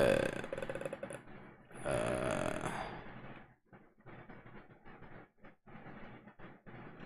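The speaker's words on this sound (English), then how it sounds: "Burp. Sorry." A person burps audibly during a livestream, a loud guttural eructation lasting about a second, followed by quieter mouth and breathing sounds.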